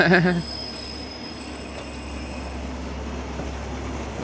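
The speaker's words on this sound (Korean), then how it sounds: "기차가 들어오고 있습니다" A train pulling into Fujimicho station in Japan on a cold winter day, heard as a steady low rumble of railcars with a brief voice at the start, continuing close and even throughout.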